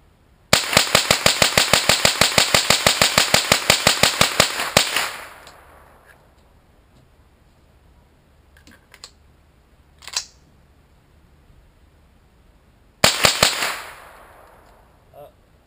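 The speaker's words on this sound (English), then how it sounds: "Now I'm about to run a couple mags through it in a row." Smith & Wesson M&P 15-22 rifle firing rapid sharp shots in a fast string for several seconds, followed by quiet handling clicks and then another loud burst of shots, close and loud.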